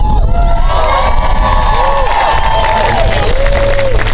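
A school walkout protest crowd in Richmond erupts in loud, continuous cheering and applause, with shrill shouting voices and dense clapping filling the whole stretch close up.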